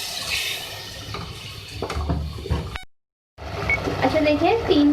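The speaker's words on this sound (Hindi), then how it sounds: "भूनने के बाद हम इसमें पानी ऐड करेंगे 1 गिलास" A glass of water is poured into a pot of fried mash lentils for a karahi-style daal, giving a splashing, gurgling rush with a brief cut midway while someone talks over it.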